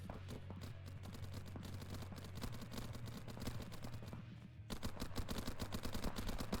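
Paintball markers firing in rapid volleys during an A-line Sweet 16 playoff match, with dense clusters of sharp pops running steadily throughout and growing louder and busier toward the end.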